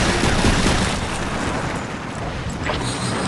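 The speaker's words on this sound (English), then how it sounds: "I heard gunfire up ahead" Gunfire and explosions in the video game Darkwatch form a dense, loud, continuous barrage with no clear gaps between shots.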